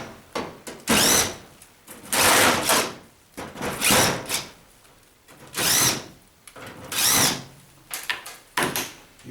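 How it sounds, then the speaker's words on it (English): A power screwdriver whirs in about six short, loud bursts with brief pauses between them, backing out screws from a White Knight tumble dryer casing up close. "Now we need to undo all the screws around here."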